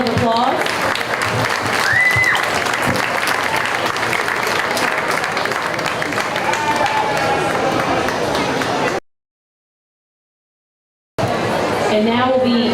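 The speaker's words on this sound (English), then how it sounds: "please give a round of applause" An audience at a county fair lamb show claps through a long stretch with voices and crowd noise mixed in, then falls silent for a couple of seconds before clapping and talk resume.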